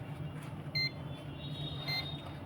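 A multimeter set to buzzer mode gives two short, faint beeps about a second apart during a motherboard check, over a low background hum.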